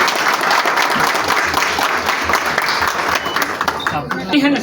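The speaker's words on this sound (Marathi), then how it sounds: "शहरात जोरदार टाळ्यांच्या गजरात" Loud, dense applause from a crowd at a showroom inauguration with lamp lighting, sustained and close throughout, thinning slightly near the end.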